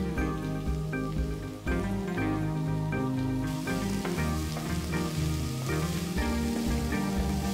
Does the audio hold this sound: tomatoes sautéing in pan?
yes